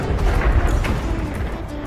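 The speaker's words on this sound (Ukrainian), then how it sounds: "Танк зупиняється через вибух." A deep, rumbling blast from a tank hitting a mine rolls out with heavy low boom and crackling debris, loud and close, fading slowly without any talking.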